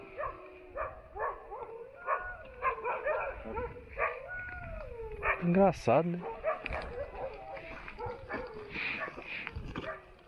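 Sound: dogs barking at night

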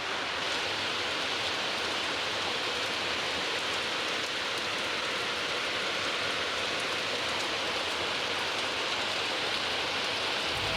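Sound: rain falling

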